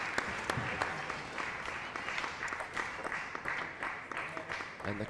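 A table tennis crowd at the Europe Top 16 Cup stirs and claps in a near-miss moment, with a scattered patter of hand claps and a murmuring arena, faint commentary voices underneath.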